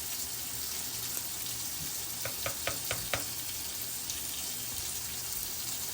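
Dye mixture being stirred into water in a container, a quiet swishing with a quick run of five light clinks from the stirrer against the side, no talking.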